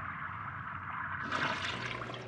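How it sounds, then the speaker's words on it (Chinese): A toilet flushing in a bathroom: a quiet, hollow room tone, then a sudden rushing surge of water about halfway through that keeps pouring until the end. "你那边声音空荡荡，他有冲水声，是你在卫生间吧？"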